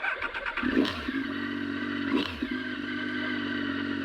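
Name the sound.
motorcycle engine warming up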